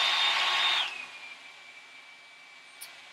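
A hair dryer blows loudly at first, then drops to a softer, steady whine that continues to the end.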